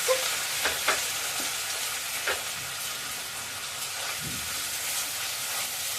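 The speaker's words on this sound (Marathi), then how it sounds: "आता तेल छान आपलं तापलंय त्यात आता एक बाऊल कांदा टाकणार" A bowl of onions frying in hot oil for veg hakka noodles gives a steady, fairly soft sizzling hiss with a few faint stirring clicks, close and without speech.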